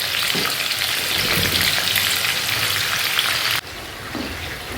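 Chicken pieces for biryani fry in hot oil with a steady, loud, close sizzle and crackle that drops off sharply near the end, then continues more softly.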